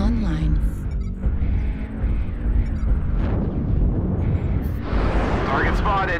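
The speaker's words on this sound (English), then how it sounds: "Artillery strike online." Artillery strike explosions in a video game, a series of deep rumbling blasts rolling over one another, loud and continuous under in-game voice callouts.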